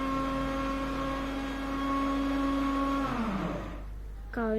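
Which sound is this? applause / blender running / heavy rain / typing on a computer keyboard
blender running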